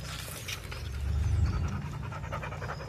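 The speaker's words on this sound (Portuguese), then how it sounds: "Olha o barulhinho deles mamando." Puppies nurse from their mother with soft, continuous wet suckling and snuffling close by, a steady low murmur that swells slightly in the middle and stays fairly loud throughout.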